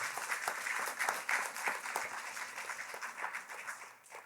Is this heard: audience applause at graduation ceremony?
yes